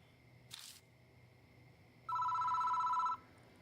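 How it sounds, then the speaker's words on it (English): Telephone ring in the horror video game Death Mark: one steady electronic trill lasting about a second, clear and fairly loud over quiet ambience, with a brief soft noise burst earlier. "Phone rings."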